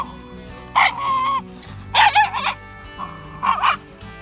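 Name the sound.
rescue dog grumbling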